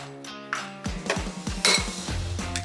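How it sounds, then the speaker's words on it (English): Two eggs are cracked into a bowl in a kitchen, giving a quick series of sharp taps and clinks against the bowl followed by faint splatting, close and without speech. "Start by cracking your 2 eggs"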